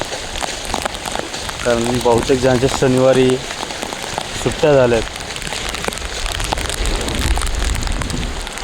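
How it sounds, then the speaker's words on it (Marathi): Heavy rain falling steadily in Nalasopara, a dense continuous patter and hiss on surfaces heard close throughout, with a person talking over it partway. "जो कालपासून पाऊस चालू झाला तो अजून थांबला नाही आहे"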